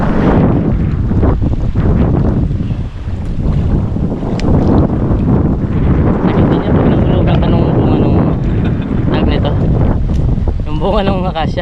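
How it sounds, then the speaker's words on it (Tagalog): Strong wind buffets the microphone at a waterside spot, a loud continuous rushing roar with gusting swells that fills the whole clip, with a boat-like rumble underneath and a voice speaking over it near the end. "Lakas ng hangin mga kapatid."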